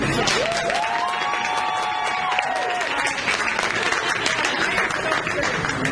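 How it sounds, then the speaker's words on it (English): An audience bursts into sustained applause with some cheering and whoops layered over the clapping, loud and continuous throughout. "we need to give a huge round of applause for you."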